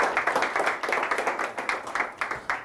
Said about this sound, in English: So one more round of applause for Terry Tarantino